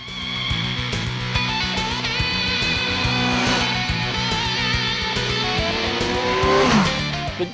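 Engine revs loudly and continuously, pitch climbing and falling through gear changes, close and dominant throughout.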